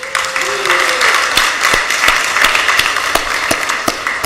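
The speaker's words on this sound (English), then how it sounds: "Let's give them a round of applause." A round of applause fills a council meeting honoring a sorority anniversary, steady clapping from a crowd throughout with a few sharper claps standing out and some voices mixed in.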